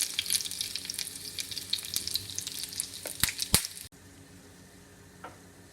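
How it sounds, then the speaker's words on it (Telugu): Red chillies and curry leaves crackle and sizzle loudly in hot oil for a Malabar spinach curry tempering, with a few sharp pops near the end before the frying drops to a quieter hiss. "రెడ్ చిల్లీస్, కొంచెం కర్రీ లీవ్స్ వేస్తున్నాను"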